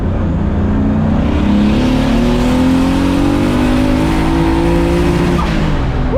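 A 450 hp Volvo 740 fitted with a BMW engine and a muffled exhaust revs hard and accelerates. Its loud, close engine note climbs steadily in pitch and roars continuously for several seconds.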